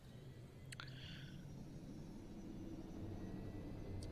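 A Little Bird helicopter mod in a flight simulator game gives a faint, steady engine and rotor drone, with a brief higher-pitched whine near the start.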